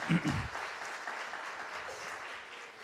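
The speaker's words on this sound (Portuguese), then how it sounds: "Aplauda Jesus por isso" A church congregation claps in praise during a worship sermon, a brief louder burst at the start settling into steady, moderately distant applause.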